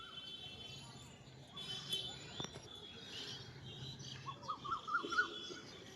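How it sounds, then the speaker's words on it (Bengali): Koel and other birds call in the afternoon, with a few brief chirping phrases near the end over a steady, faint outdoor hum. "কি সুন্দর পাখি ডাকছে, কোকিল"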